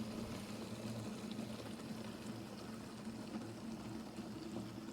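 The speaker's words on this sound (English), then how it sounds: "so if we fill that up to the 3 litre mark" Water runs steadily into a small garden pump sprayer mixing Wet and Forget algae remover, filling toward the 3 litre mark; a continuous, even pouring rush sits close and unbroken throughout.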